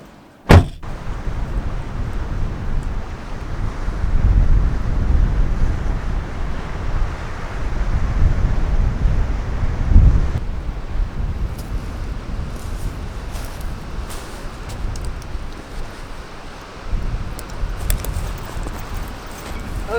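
Strong wind buffeting the microphone on a rugged coastline, a loud, continuous roar with gusts swelling and easing throughout, alone with no voices.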